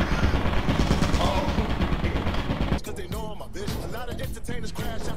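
Repeated gunfire in the video game Lethal Company, a dense, loud burst of shots that stops partway, followed by sparser, fainter sharp cracks.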